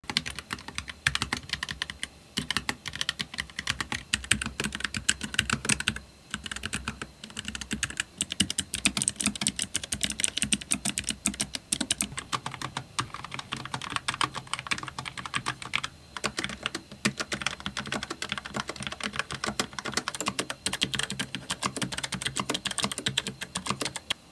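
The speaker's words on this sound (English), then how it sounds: "The blues offer a fast, tactile typing experience with moderate pressing force and a clear rebound." Steady, continuous typing on a low-profile mechanical keyboard with blue tactile switches, dense rapid clicks and clacks at a fairly quiet, even level throughout, no voices.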